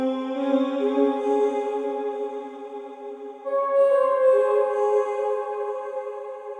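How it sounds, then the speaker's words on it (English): A Spitfire Audio LABS textural pad called Osany, set to a shorter attack and played as a lead line. It holds sustained, breathy chords that shift once partway through and stays smooth and continuous throughout, with no voices. "That sound is a textural pad called Osany,"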